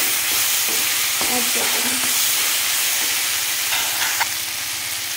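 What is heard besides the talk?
tomato being stirred and roasted in a pan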